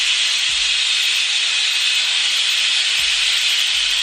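A pressure cooker lets off its first whistle while dal cooks, a loud, continuous jet of steam hiss that holds steady from start to finish with no talking.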